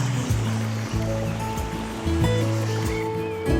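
An icy waterfall in Canada gives a constant rushing roar of falling water, with steady tonal music playing over it.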